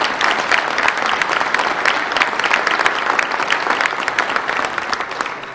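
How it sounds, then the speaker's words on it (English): A crowd at a chamber of commerce holiday breakfast gives a warm, sustained round of applause honoring chamber life members, dense clapping that holds steady and tapers slightly at the end. "Would we please give them all a nice round of applause?"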